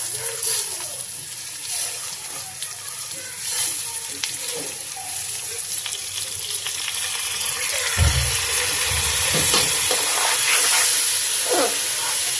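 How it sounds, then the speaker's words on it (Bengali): Rice for polao fries in a pan with a continuous close hiss and sizzle, punctuated by occasional stirring scrapes, and a low thump with a louder swell of sizzling partway through, with no talking. "পোলার চালটা ভেজে নিচ্ছি।"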